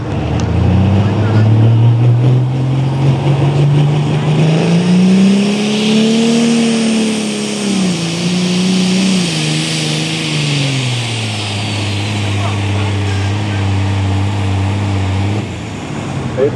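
A pulling truck's engine revs at a truck pull, a loud, sustained roar that climbs in pitch, holds near the top, then settles back before cutting off, with an announcer talking over it.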